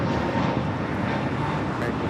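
A Boeing 777 jet at LAX bound for Dallas, heard as a loud, steady, broadband engine rumble with wind-like noise, and a voice may be speaking beneath it.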